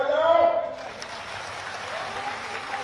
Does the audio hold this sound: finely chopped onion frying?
no